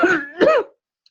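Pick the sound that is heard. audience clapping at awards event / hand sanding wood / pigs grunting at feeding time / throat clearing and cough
throat clearing and cough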